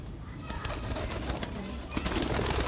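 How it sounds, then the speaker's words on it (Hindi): Green Madrasi pigeons kept for sale coo in a low, continuous chorus, with rapid rustling and fluttering bursts close by and no talking. "ये बड़ा कबूतर है"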